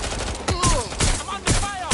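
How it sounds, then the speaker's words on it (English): Video game gunfire cracks in repeated loud bursts roughly every half second, with whistling, swooping tones between the shots during a police pursuit scene. "I'm under fire!"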